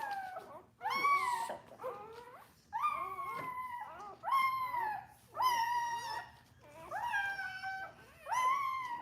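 A dog whimpers and howls in a run of about six drawn-out, wavering cries with short pauses between them, close and clear in a quiet room.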